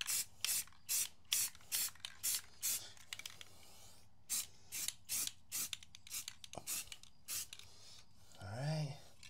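Spray can misting paint onto a pistol: a steady series of short hissing bursts, close and fairly loud in an even rhythm, with a brief voice near the end.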